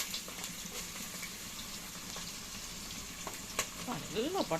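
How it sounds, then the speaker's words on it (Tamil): Onions and green chillies sautéing in a pan for kuska, a plain biryani, giving a steady soft sizzle and fry hiss throughout with a few light stirring scrapes near the end. "பட்டன்னு வதங்கிது போட்டு நல்லா வதக்கிக்கலாம்."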